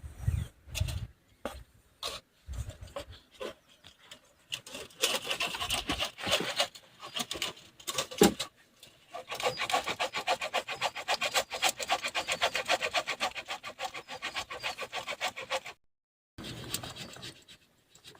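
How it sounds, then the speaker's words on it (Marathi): Peeled potatoes are grated against a sieve for sabudana-potato papad, giving rhythmic scraping and rasping strokes in bursts with short pauses. Some passages are dense and steady, and the sound stays fairly quiet and close. "आता या चाळणीने बटाटे मी आता किसून घेणार आहे"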